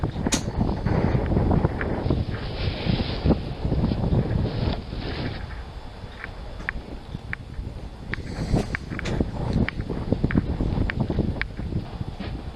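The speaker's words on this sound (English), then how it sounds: "It's quite windy" Strong wind buffets the microphone outdoors on lake ice, a constant rough roar with irregular thumps and flaps, loud and close throughout.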